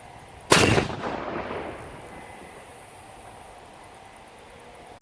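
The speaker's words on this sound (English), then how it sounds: "we're going to go ahead and blast it" A single sharp outdoor blast from a PBX explosive charge booms out, then a long rumbling decay trails off under steady wind noise.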